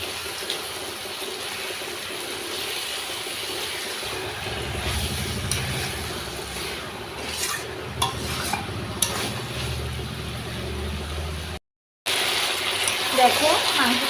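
Chicken pieces dropped one by one into a pan for chicken kasha, a steady sizzle with clattering stirring and splashy bursts, a brief silent gap near the end, and a voice talking over parts.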